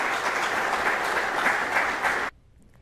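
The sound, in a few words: audience applause at graduation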